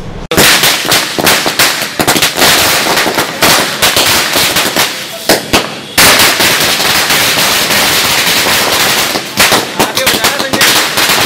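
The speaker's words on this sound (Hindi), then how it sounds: "आतिशबाजी की।" Firecrackers set off in celebration by political party workers outside a minister's bungalow in Gwalior, a loud, dense rapid crackle of bursts running almost continuously with brief lulls.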